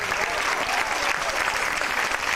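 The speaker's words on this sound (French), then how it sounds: "On peut l'applaudir très fort" An audience applauding loudly for a 14-year-old performer named Emilio, a dense, sustained roar of clapping from a large crowd, full and even throughout.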